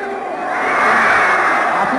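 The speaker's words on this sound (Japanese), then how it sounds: "ちょっと上がります、大歓声。" At the Sapporo Olympic ski jump, a large stadium crowd erupts into a swelling roar of cheers after Kasaya's jump, loud and sustained, rising and holding for about two seconds.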